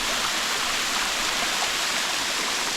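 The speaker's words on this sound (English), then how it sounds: "right at the top of that waterfall that I'm just getting to the base of" Steady, dense rush of a jungle waterfall in Tahiti, heard close from near its base, with a continuous broadband roar and no speech.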